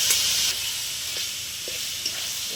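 Jackfruit frying in spice masala in a pan, a steady close sizzle and hiss with a few soft stirring knocks, no voices.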